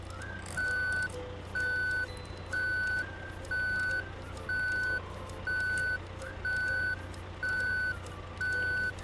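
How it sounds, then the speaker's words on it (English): A road roller on a construction site backs up, sounding steady reversing beeps in a regular on-off rhythm about once a second over a low engine rumble, with no voices. "Here comes the road roller."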